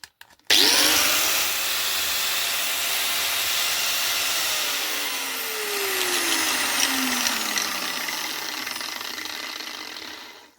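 An old cutter or grinder, taken apart, cleaned and rewired, runs steadily after a sharp start, giving a loud continuous whine and hiss whose pitch slowly drifts downward as it spins.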